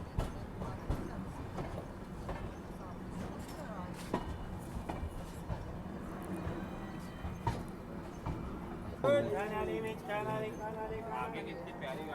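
Diesel train pulling into Akola Junction railway station in rural Maharashtra, a steady rumbling bed of wheels and engine under station noise, with a person talking over it throughout and a louder burst of voices near the end.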